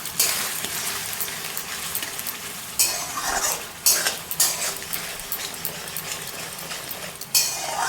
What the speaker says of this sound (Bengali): কর্নফ্লাওয়ারটা আমি দিয়ে দিব এতে আর ভালো করে নাড়াচাড়া করে নেব যতক্ষণ গ্রেভিটা একদম ঘন না হয়ে যায়